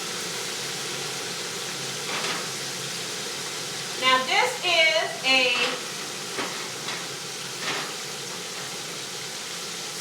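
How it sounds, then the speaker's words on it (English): Shrimp frying in hot oil for a Louisiana shrimp po'boy dip, a steady broadband sizzle running throughout, with a brief voice and some clattering stirring sounds rising over it midway. "Let them see the frying, guys."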